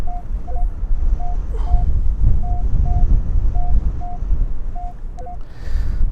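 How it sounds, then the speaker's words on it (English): Strong wind buffets the microphone on a beach, a loud continuous low rumble that runs throughout, with a metal detector's short tones beeping repeatedly above it. "quite a lot of the sand's been blown about with a strong wind today"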